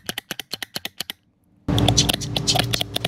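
A disc spring pack from a MAN B&W marine engine fuel injector is shaken by hand. About ten quick metallic clicking rattles sound close and crisp, then a pause, then a denser scraping rattle.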